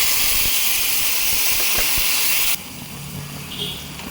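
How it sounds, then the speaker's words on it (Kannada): Semolina and hot water going into a hot pan for pineapple kesari bath, a loud steady hiss and sizzle that cuts down sharply partway through to a quieter bubbling. "ನಂತರ ಸ್ವಲ್ಪ ರವೆ ಹಾಕ್ಬೇಕು ಸ್ವಲ್ಪ ಬಿಸಿನೀರು"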